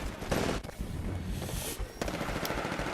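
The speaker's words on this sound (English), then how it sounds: "Another smart pistol, yay." Rapid gunfire from a smart pistol in the Titanfall shooter game, several quick bursts of sharp cracking shots with a brief lull between, close and punchy.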